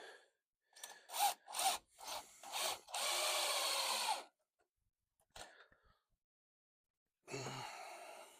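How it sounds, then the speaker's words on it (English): A screwdriver driving screws into plywood for a boat build, heard as short whirring bursts, then a longer steady run, a pause, a brief burst and a final run, close and fairly quiet. "Yep, make the screwdriver go the correct way."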